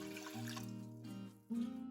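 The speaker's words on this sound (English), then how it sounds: "measure 1 cup of white vinegar, then add it to a saucepan" White vinegar poured from a measuring cup into a saucepan for pickled red onions, a soft close trickling stream that pauses briefly and then resumes.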